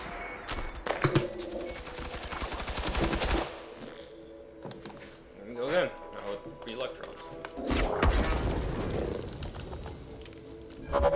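Automated turret in the FireFall online shooter fires rapid bursts of gunfire, loud and close, with crashes and impacts scattered through a busy game battle; a voice speaks over parts of it.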